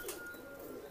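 A homing pigeon kept in a racing pigeon loft gives a brief, soft coo, close but quiet against faint background noise.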